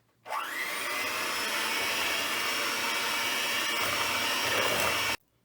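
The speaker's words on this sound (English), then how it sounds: "I'm going to use my electric mixer to mix this." An electric hand mixer whirs steadily, beating white sugar for banana bread in a home kitchen; a loud, continuous motor drone starts abruptly and runs about five seconds before cutting off, with no talking.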